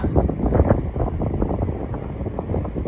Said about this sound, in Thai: ลมแรงมากเลยค่ะทุกคน